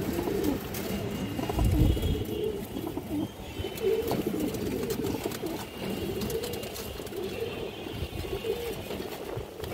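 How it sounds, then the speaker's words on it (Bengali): Female silver khaki pigeons coo softly at close range, repeating low, throaty calls over a busy background murmur. "সিলভার খাকি মাদি কবুতর আছে,"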